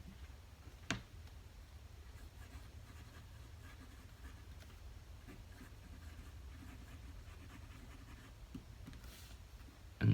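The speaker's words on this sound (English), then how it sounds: "Let's do some writing." A TWSBI Precision fountain pen with a medium steel nib writes on paper, making a faint, continuous scratching with a couple of soft taps, close and quiet with no voices.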